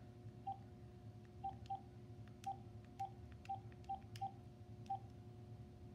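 Phone keypad tones beep one at a time in an uneven sequence of about nine short presses while a number is dialed, faint over a low steady hum.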